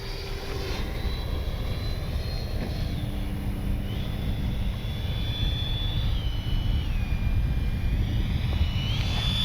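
An FMS 70mm ducted-fan F-18 RC jet on its maiden flight performs a touch and go. It gives a loud, continuous whooshing roar with a high whine that shifts in pitch as the throttle changes, and no talk is heard.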